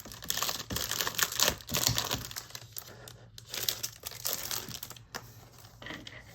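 Gold and rose gold craft foil sheets crinkle and crumple as they are unpacked, close and continuous, with rustling bursts and short pauses.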